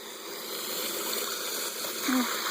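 Water streams steadily from the sand filter return jet of a Summer Escapes above-ground pool, a continuous close hiss with a small splash near the end.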